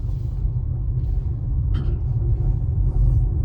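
A car pulls away during a driving lesson, its engine a steady, close low rumble that holds evenly throughout with no talking.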